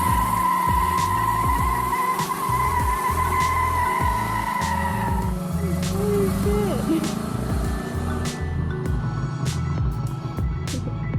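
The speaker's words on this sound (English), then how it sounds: "let's go for a drive" A car driving on the road, heard from inside as a steady engine drone with road rumble and a brief squeak, continuous throughout with no speech.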